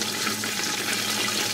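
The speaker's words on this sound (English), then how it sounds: "what you're actually seeing in there is water boiling" Water boiling at a steady roll, a dense, even bubbling hiss that stays constant and close for a short stretch with no voices.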